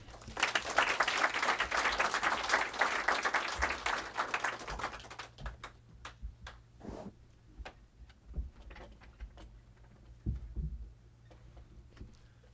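An audience at a Politics and Prose bookstore event applauds to welcome author Stephen H. Grant, a dense burst of clapping for about five seconds that thins into scattered claps and quiet room sounds.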